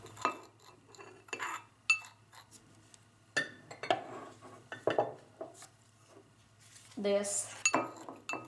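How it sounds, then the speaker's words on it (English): A spoon clinks and scrapes in a small dish while mixing chili, Sichuan pepper and salt for fermented tofu, close irregular bursts of stirring and metal-on-ceramic taps, with a brief spoken word. "So this one is a spicy chili and the Sichuan pepper and the salt. I mix them together."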